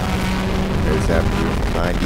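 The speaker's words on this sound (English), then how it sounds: "96, second generation RX-7" A 1996 second-generation Mazda RX-7 race car passes on the Sebring circuit, its engine note swelling and climbing in pitch as it nears, with loud commentary talk running over it the whole time.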